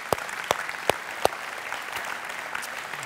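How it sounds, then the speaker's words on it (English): Applause from a church congregation for preschool students, a soft diffuse patter of clapping under a few sharp, distinct close claps in the first second and a half, fading toward the end. "could we just give a round of applause again to our preschool students?"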